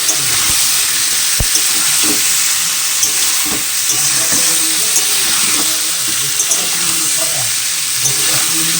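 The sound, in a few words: stirring potato, paneer, tomato and spices together in a pan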